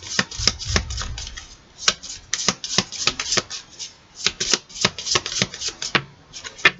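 A deck of cards shuffled for a Capricorn horoscope reading, producing a steady run of crisp, close flicks and snaps in an uneven rhythm, heard alone without voices.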